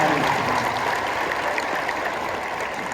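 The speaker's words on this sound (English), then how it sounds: "let's give a big round of applause for the Fentanyl County" A school assembly audience at a high school gym applauds, a broad, even wash of clapping that stays steady and moderately loud for the full stretch, with no distinct voices above it.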